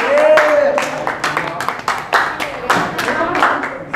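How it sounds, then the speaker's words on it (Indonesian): A classroom group claps for a presenting team, a short burst of clapping that starts strong and settles into sparse, uneven claps, with voices talking over it throughout. "Yuk kita kasih tepuk tangan buat kelompok 3"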